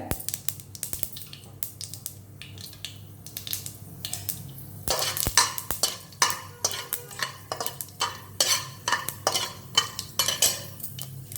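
Mustard seeds spluttering and crackling in hot oil, with sharp irregular pops that grow busier midway, plus a few soft utensil clinks; close and fairly quiet.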